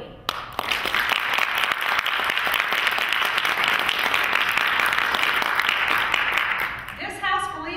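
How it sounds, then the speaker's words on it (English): A debate audience bursts into loud, sustained applause, a dense wall of clapping that holds steady for several seconds before tapering off as a voice begins speaking. "So by your applause, let's hear your support for this chosen topic."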